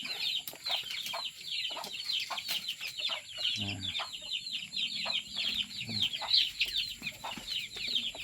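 Chickens cluck and peck in a steady, busy chorus close by, with brief low bumps and a short murmur partway through.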